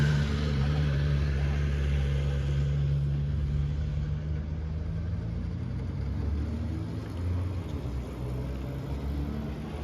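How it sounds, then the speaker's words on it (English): A bike approaching along a road through the Sierra foothills on a warm January day, heard as a steady low engine rumble that holds roughly even throughout without clear separate peaks. "I hear another bike coming."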